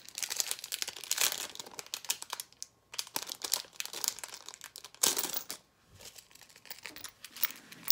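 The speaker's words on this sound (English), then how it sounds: "I'm gonna take it out of the packaging and show you guys what that looks like." Plastic packaging crinkles and crumples up close in bursts, with short pauses, as a sunflower locket necklace is unwrapped.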